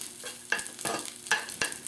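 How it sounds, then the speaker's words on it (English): Food sauteing in butter and oil in a pan over low to moderate heat, a steady close sizzle with repeated scraping stirs and light utensil clicks. "So what I'm doing here is a quick saute."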